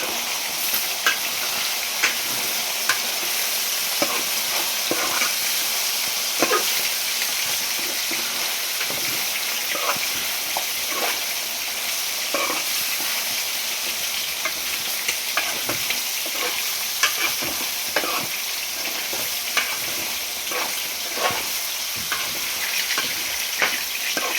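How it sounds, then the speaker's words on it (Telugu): Chicken fries and browns in a pan, a constant close sizzle broken by frequent small clatters as it is stirred, with no talking. "so chicken fry plus chicken curry కూడా వండుతున్నాం"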